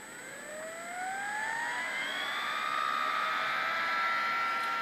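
A CD/DVD-ROM drive motor driven by a microcontroller whirs up to speed, its rising whine climbing and holding as a steady, fairly faint electric hum with no voices.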